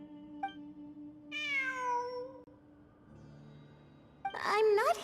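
A cat meows in Genshin Impact: one long, drawn-out meow with a falling pitch, then a shorter, brighter cry near the end, over a steady low game tone and quiet background.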